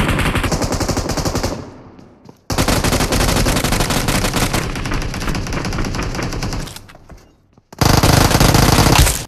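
Sustained automatic gunfire in the mobile shooter Free Fire, loud rapid bursts firing near the listener, broken by two short pauses before the shooting resumes just as hard.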